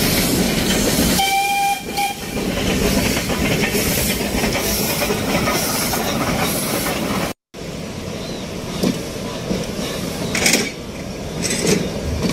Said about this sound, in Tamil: உள்ளூர் மக்களால் பொம்மை ரயில் என்று அழைக்கப்படும் இந்த ரயில் தட தட என்ற தாளத்துடன்